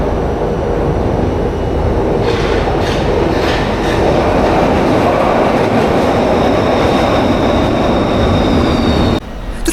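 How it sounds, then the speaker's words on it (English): Glasgow Subway train pulling into an underground station, a loud steady rumble with rail clatter and a rising whine, sustained throughout and close, ending abruptly near the end. "now wait for the train. Mind the gap, here she comes."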